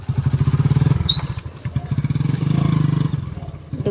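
A motorcycle idles on a cold winter morning with a steady, close, rhythmic low thumping beat that dips briefly and then continues. A short high squeak sounds once near the start.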